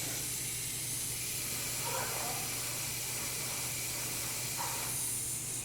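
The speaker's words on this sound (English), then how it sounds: "So I'm going to spray from the bottom of the sole up the side of the foot like this" An airbrush hisses steadily as it sprays paint onto the foot of a 1/4 scale Deadpool figure, a continuous close airy spray with a couple of slight shifts in tone.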